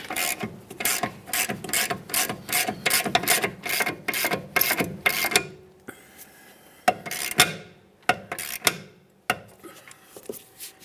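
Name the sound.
ratchet loosening 15mm caliper bracket bolt on Ford Flex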